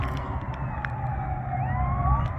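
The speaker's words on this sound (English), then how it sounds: "Ambulance lit up right behind me there" An ambulance siren wails and sweeps up and down in pitch over low traffic rumble in Albuquerque, fairly close and steady.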